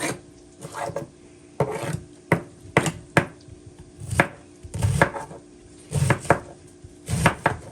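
A knife chops through cabbage on a cutting board in irregular bursts of crisp, crunchy strokes, some quick doubles and some spaced pauses, close and fairly quiet with no talking.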